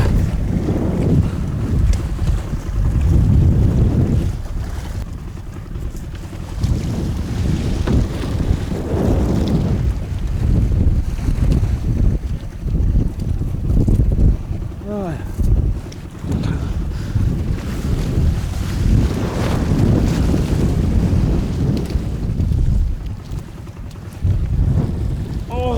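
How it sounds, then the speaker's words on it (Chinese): Strong wind gusts roar across a fishing boat at sea in the rain, a loud, continuous buffeting that swells and fades over the rush of waves. "刮大风就是不一样"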